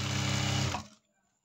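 A sewing machine runs steadily while stitching an Arya work blouse, a continuous close whir that stops abruptly after under a second, leaving near silence.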